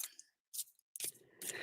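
A deck of tarot cards is shuffled by hand in a quiet room. Three short, crisp riffling bursts come close to the microphone, separated by brief silences.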